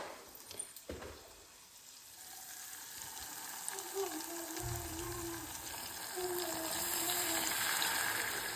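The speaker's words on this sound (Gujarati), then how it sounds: "હવે પાણી નાખવાનું છે શાકમાં." Water runs and pours into a pan of sev tomato curry on a home stove, a faint steady gush that builds slightly toward the end, with soft kitchen clatter early on.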